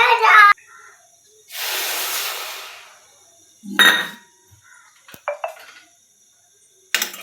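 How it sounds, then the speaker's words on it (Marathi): Jaggery and half a cup of water go into a wok heating on the stove, giving a soft hissing pour amid a few sharp metallic clinks and knocks of utensils against the pan. "मी कढई गरम करायला ठेवते आणि त्याच्यामध्ये गुड घालते आणि अर्धा कप पाणी घालते."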